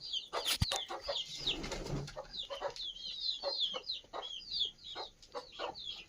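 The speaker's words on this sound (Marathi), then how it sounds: "गावरान कोंबड्या आहेत बघा" Several free-range village hens cluck and chatter in short bursts, moderately close, with a sharp click or tap near the start among the birds.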